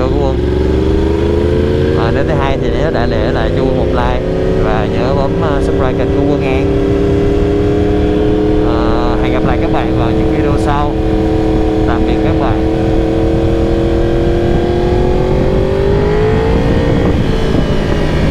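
Motorcycle exhaust droning steadily while riding, loud and close, with a rising and falling engine note under someone talking throughout.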